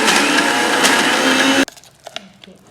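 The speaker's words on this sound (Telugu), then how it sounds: "ఇది కూడా మిక్సీలో వేస్తున్నాను." A kitchen mixer grinder whirs loudly and continuously as it grinds tamarind, chilli, garlic and salt into a smooth paste, then cuts off abruptly, leaving faint clinks and rattles.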